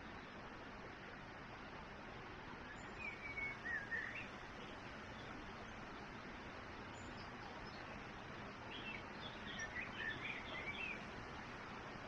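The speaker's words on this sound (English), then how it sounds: "it's just me and the birds" Birds chirp and sing in short bursts at a distance over a steady wash of outdoor background noise at a quiet coastal van camp on a Sunday morning, with no one talking.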